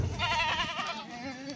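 A Kathiyawadi goat gives one drawn-out, wavering bleat at moderate distance, rising and falling in pitch over a quiet background.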